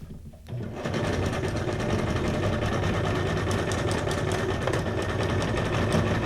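Sewing machine running a straight stitch on junk journal ephemera, starting after a brief pause and then whirring loudly and continuously up close.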